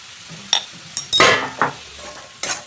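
Okra with turmeric, Kashmiri chilli powder and salt is stir-fried in a pan. A spatula clinks and scrapes against the metal in a few sharp, close strokes over a quiet sizzle.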